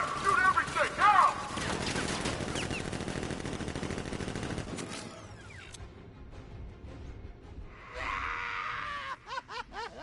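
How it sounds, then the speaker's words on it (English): Guards opening fire with guns in Batman Arkham Knight: dense rapid gunfire crackles loudly for about five seconds, then gives way to quieter rumbling, a sharp burst and cackling laughter with voices. "Guard! Open fire! Shoot everything! Now!"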